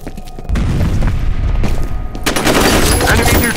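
A grenade blast and gunfire in the shooter F.E.A.R., a loud burst of combat noise with a heavy boom and rattling shots partway through, dense and close, with a voice faintly present.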